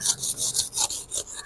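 A knife cuts and peels a pineapple for a yogurt fruit bowl, giving repeated close, rasping scrapes and rubs in a steady rhythm with no voices.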